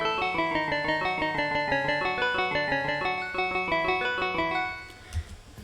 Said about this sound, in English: And the African bars.